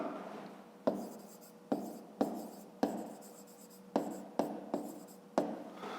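Handwriting on paper during a fifth-grade maths exercise: a series of quiet, close scratching pen strokes, each starting with a sharp tap and fading, repeated about eight times in irregular rhythm.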